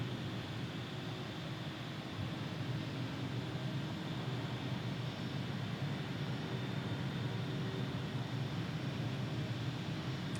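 JetBlue airliners, including Embraer E190s, roll around the ramp at JFK airport in Microsoft Flight Simulator 2020, giving a steady broad jet-engine whine and roar that holds constant throughout with no talking.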